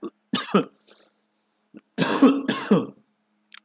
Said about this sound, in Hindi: लगता है ज्यादा खांसी हो रही है